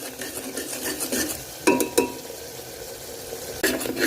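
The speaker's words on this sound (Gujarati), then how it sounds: "જ્યાં સુધી આપણું તેલ છૂટું ના પડે ત્યાં સુધી આપણા મસાલા શેકી લેવાના છે" Masala spices roast in oil in a pressure cooker, with a soft steady sizzle and several sharp scrapes and clinks of a stirring spoon against the metal pot.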